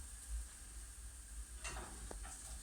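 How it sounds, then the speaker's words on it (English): Potato cakes sizzling in hot oil in a pan, a steady close frying hiss with a couple of soft scraping knocks. "into some hot oil, we just place our potato cakes we've made"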